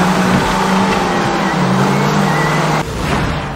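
A Mitsubishi Evo races along a toll highway, its engine loud and close with a sustained roar that shifts pitch, with a brief tire squeal and a sharp drop near the end.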